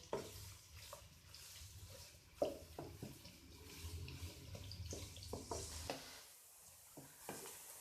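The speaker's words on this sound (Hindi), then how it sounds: "प्याज को हम फ्राई करेंगे कि इसका रंग सुनहरी हो जाए।" Onions frying in hot oil produce a soft, continuous sizzle, with occasional stirring scrapes and clinks in a kitchen, faint and fairly distant throughout.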